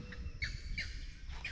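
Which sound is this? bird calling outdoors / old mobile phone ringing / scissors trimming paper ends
bird calling outdoors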